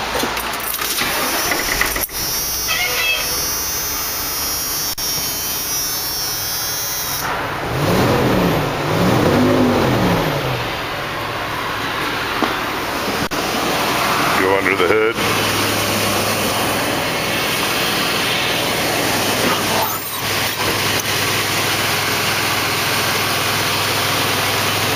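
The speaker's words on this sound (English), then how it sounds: "Fired up so you can hear it run." A Workhorse step van with a 12-foot body idles steadily for the whole stretch, the engine note rising once or twice in brief revs, with someone talking in the background.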